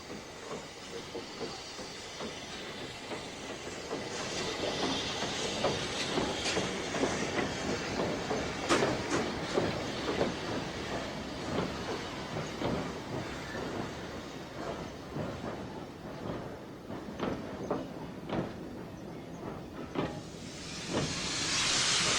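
Small Great Eastern class J15 steam locomotive in Prussian blue livery on the North Norfolk Railway, a steady hiss with rhythmic wheel clicks and chuffs building then holding at moderate distance, no talk.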